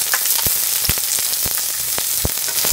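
Chopped large onions hiss and sizzle in hot oil in a pan with dried red chilies and curry leaves, a steady fry broken by sharp clicks of stirring.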